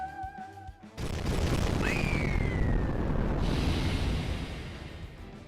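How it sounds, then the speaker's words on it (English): A big explosion in the video game Fate/Grand Order bursts in abruptly, followed by a roaring blast that sustains for several seconds. A descending whistle cuts through the blast, and the roar fades toward the end. "Oh, that's a big explosion."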